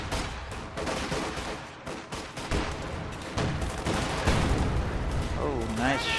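Video game battle gunfire from an M8 and a pack howitzer: dense bursts of shots and booming blasts crackle continuously, with a commentator talking over the din.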